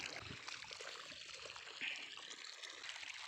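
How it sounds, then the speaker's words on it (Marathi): Water pours from a pipe at a village site, a faint, steady trickling stream running continuously without a break. "पाणी इकडं पडत आहे बघा."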